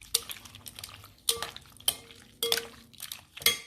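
Chicken with black pepper and egg white is stirred in a bowl, producing a handful of sharp clinks and scrapes spaced about half a second apart, close and fairly quiet.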